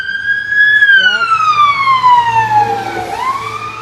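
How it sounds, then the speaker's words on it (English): Fire truck sirens wail loudly and sweep downward in pitch as the trucks pass close by along a street, with engine rumble underneath and a brief voice in the middle. "Gavin, here comes more fire trucks."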